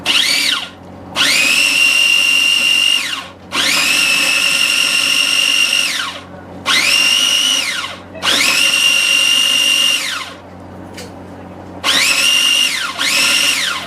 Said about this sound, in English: just place it into the food processor or your blender, whatever you have